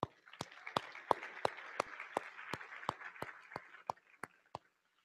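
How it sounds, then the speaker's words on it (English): Conference audience at Empower 2015 applauding, a spread of clapping with a dozen or so louder, distinct claps standing out in a steady rhythm before the noise thins and stops. "So give yourselves a hand."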